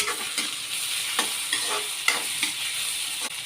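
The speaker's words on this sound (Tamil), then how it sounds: "ரெண்டு பச்சை மிளகா போடுறேன்" Two green chillies sizzle in a hot pan while a tava-style flat bean kootu is cooked, giving a dense steady hiss with a few scattered stirring scrapes, close and fairly loud, with no voices.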